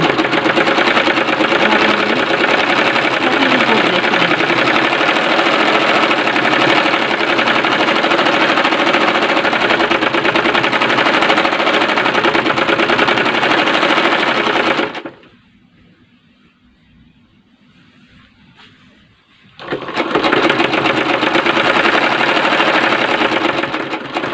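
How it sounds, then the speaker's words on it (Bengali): A sewing machine runs fast and loud, topstitching over the round neckline of a Mexi dress, then stops for a few seconds of near quiet before the stitching resumes. "এখন আমি এই গলার উপর দিয়ে চাপ সেলাই দিব, যেন কোনো অবস্থায় বের না হয়।"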